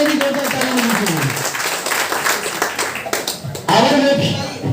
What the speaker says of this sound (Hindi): सोनाली के लिए भी जोरदार ताली मिलनी चाहिए